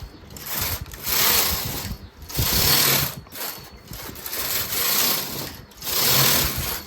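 A knitting machine's carriage sweeps back and forth over a linen top sleeve in repeated loud passes, each a rattling mechanical whir about a second long with short pauses between rows.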